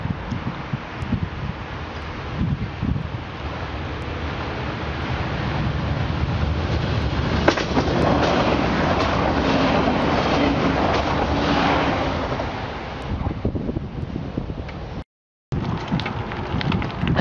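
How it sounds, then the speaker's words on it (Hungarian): A red passenger train passes along the north shore of Lake Balaton in Hungary during autumn. Its broad rushing rumble swells through the middle and fades. It is heard from the trackside, mixed with wind noise, with a brief dropout near the end. "És már jön is a piros vonat."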